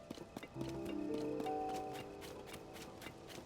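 A horse in Zelda: Tears of the Kingdom clops near a stable and gives a short whinny, with a brief tonal game chime over the hoofbeats, fairly quiet overall.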